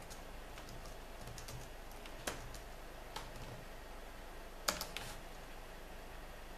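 Soft, sparse keystrokes on a computer keyboard while commands are entered during an Arch Linux installation, a few isolated clicks over a quiet hiss with brief pauses between them.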